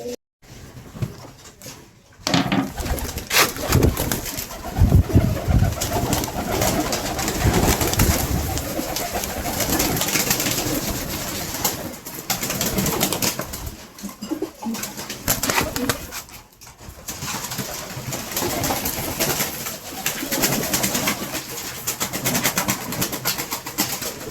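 Pigeons being fed coo steadily up close with bursts of wing flapping and shuffling, a busy, continuous flock sound throughout.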